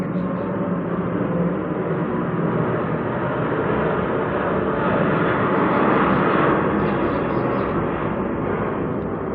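An airplane passes overhead as a loud, continuous broadband roar that holds steady and swells slightly near the middle, with no voices heard.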